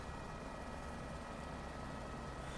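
Simulated helicopter in flight in Microsoft Flight Simulator 2024, a steady broadband rotor and engine drone holding constant and fairly quiet throughout, with no voices over it.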